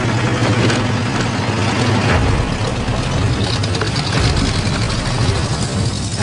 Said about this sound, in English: And then I hear the roar of some engine